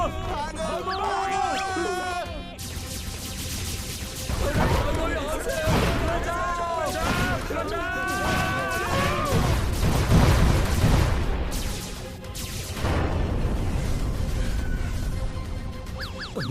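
Blasts, crashes and whooshes from a spaceship attack in a Hindi-dubbed animated Motu Patlu movie, dense and continuous, mixed with music and overlapping character voices.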